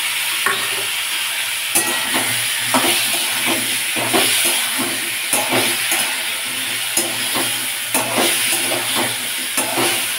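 Ground tomato paste hits a pan of fried potatoes and arum and sizzles loudly while being stirred, with repeated scraping strokes at an uneven rhythm over a constant hiss.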